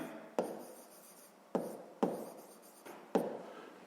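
A pen writes by hand on paper in short scratchy strokes, with about six distinct bursts of writing separated by brief pauses. The sound is quiet and close, with no talking.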